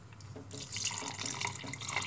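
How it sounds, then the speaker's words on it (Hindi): Water is poured into a pot of cooked mixed beef dal gosht with the flame off: a faint, soft splashing trickle that starts after a quiet moment and runs on steadily. "अब हम इसको थोड़ा सा पानी डाल के इसको हम रख देते हैं"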